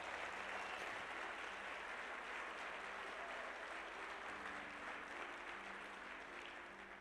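A crowd at a motivational speaking event applauds continuously, a broad steady wash of clapping that holds for about seven seconds with no talk over it.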